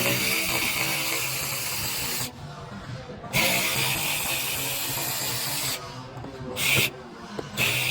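Continuous whirring and ratcheting of a tool backing out Torx 15 screws from the fender flare of a 2016 Buick Envision, broken by short pauses and a few brief stops and restarts.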